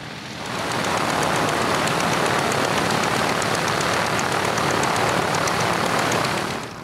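Vintage biplanes and monoplanes, including types like de Havilland Chipmunks and a 1934 Ryan sport trainer, stream past at a New Zealand air show; a steady, loud broadband propeller-engine roar swells in quickly and holds without letup.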